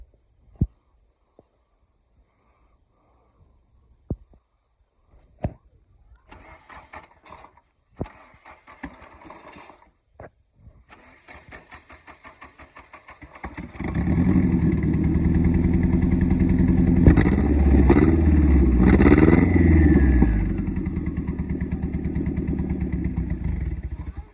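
A turbocharged 1992 Nissan 240SX engine cranks with scattered clicks and sputters, then catches and settles into a steady, loud, close running rumble.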